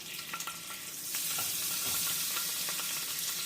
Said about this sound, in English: to the pan, along with some of the drippings from the bacon, we're going to add about a tablespoon of butter